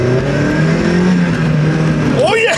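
A Mazda Miata NB pulls away from a standstill, its engine rising in pitch as it accelerates, loud and close inside the cabin, with a brief exclamation near the end.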